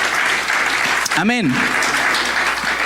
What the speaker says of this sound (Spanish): apláudale si le va a aplaudir